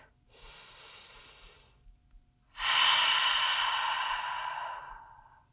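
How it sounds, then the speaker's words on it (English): Two slow breaths during hand self-massage: a softer inhale, then a long, louder, breathy exhale that trails off, with nothing else around it. "take a deep breath"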